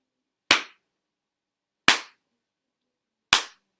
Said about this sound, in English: I will do the dot with my clap